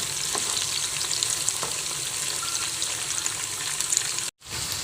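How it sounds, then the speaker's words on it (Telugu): Chicken pieces fry in a pan for street-style chicken fried rice, a loud, continuous crackling sizzle with occasional stirring scrapes and a brief dropout near the end. "నేనైతే ఈరోజు చికెన్ ఫ్రైడ్ రైస్ కోసమే ఈ చికెన్ ఫ్రై తయారు చేస్తున్నాను"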